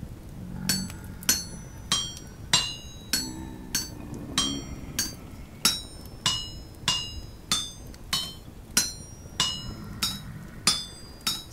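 Repeated hammer blows in Vintage Story ring out as crisp metallic clinks at a steady rhythm of about two per second, loud and close, with faint background game ambience and no speech.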